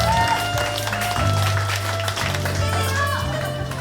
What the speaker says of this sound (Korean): 여러분 다시 한번 뜨거운 박수 부탁드리겠습니다.